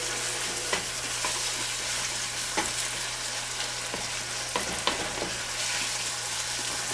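Ground beef for tacos sizzles in a pan, a steady close crackle with periodic scraping knocks as it is stirred and browned, a low hum underneath and no talk.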